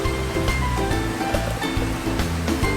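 Elmer's white glue poured out for slime, giving a close, loud, gurgling bubbling with repeated glugs and pops as the thick liquid flows from the bottle.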